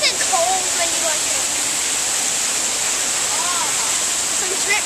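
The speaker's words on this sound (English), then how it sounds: "There's a waterfall. Indoor waterfall." Steady broadband rush of an indoor waterfall, continuous and fairly loud, filling the space with constant spray, while voices speak faintly beneath it.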